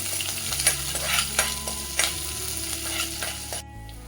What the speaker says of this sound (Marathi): हिरवी मिरची टाकून घेऊया. आता ही चांगली परतून घ्यायची आहे.